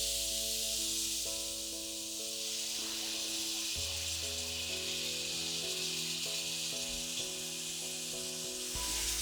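Crème fraîche sizzling in a hot pan with leeks and scallops, a loud continuous frying hiss with a steady low hum beneath and brief stirring shifts, no talk.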